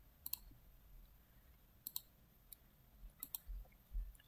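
Computer mouse clicks while working in the Scratch programming editor, heard as a few crisp, close, quiet clicks alone, some in quick pairs, spread out over several seconds.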